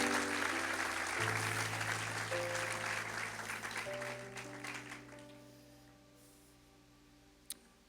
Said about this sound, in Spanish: Denle un aplauso más fuerte si es para Dios